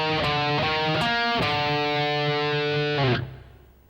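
A distorted electric guitar plays a short metal riff, several quick picked notes leading into a held, buzzing note that stops abruptly, with no voice over it.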